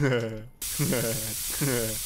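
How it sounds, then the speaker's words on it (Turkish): A spray can in Internet Cafe Simulator 2 gives a loud, steady hiss, with someone talking over it before and after. "Şu spreyi ben bir sıkayım."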